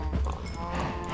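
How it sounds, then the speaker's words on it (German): Cows mooing in Minecraft, a herd of about twenty penned together, with overlapping low moos and lowing calls filling the short stretch at steady volume and no talk. "Okay, ich habe jetzt 20 Kühe."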